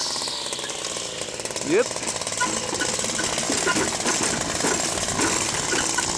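A small petrol engine runs steadily close by after a carburettor adjustment, a loud, even, buzzing rattle that continues throughout, while people exchange a brief word over it.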